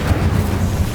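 Incendio fire spell in the video game Hogwarts Legacy, a brief loud roaring whoosh with a heavy low rumble lasting about a second.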